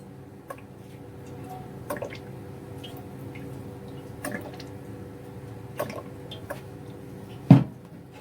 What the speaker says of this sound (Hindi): इसमें मैं डालूँगा कुकिंग ऑयल